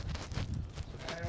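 A flock of sheep at a livestock sale, with low, close bleats and muffled animal noise rising in short overlapping bursts.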